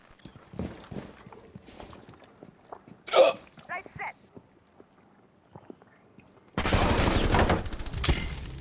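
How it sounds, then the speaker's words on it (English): Gunfire in the Rainbow Six Siege video game: quiet voices and scattered clicks give way to a loud, dense, sustained burst of shots over the final two seconds. "gun started"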